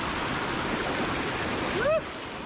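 A shallow stream in Japan in summer rushes steadily and fairly close, filling the whole clip with even broadband wash; a brief rising, voice-like cry cuts through near the end.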